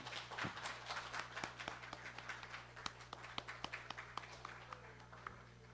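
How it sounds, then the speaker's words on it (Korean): Congregation clapping during an Easter church service, a scattered, fairly faint round of applause with sharp individual claps standing out over a steady low hum in the sanctuary. "우리 하나님께 영광의 박수 올려드립니다"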